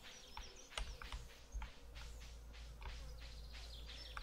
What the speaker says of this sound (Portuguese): Sons de mosca.